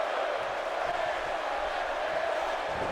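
A big arena crowd in a wrestling video game roars steadily and continuously, a dense wash of voices with no pauses, chanting blending into the constant din.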